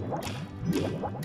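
Mario plunging into ocean water in Super Mario 64, a short watery splash and gurgle repeating a few times in quick succession with bubbly drips, close and fairly quiet, no talking.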